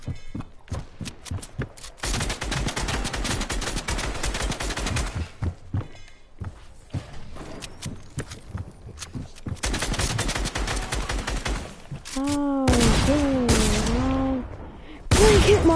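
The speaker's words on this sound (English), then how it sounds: "I have to spray my SMG" A submachine gun sprays in a video game with long, dense bursts of rapid automatic fire, then short gaps and a final loud burst, close and continuous.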